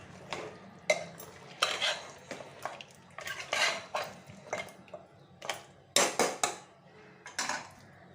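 Salt and garam masala powder being stirred into mutton korma in a cooking pot, with repeated scraping and clinking of a spoon against metal in irregular bursts, close and fairly quiet, no talking.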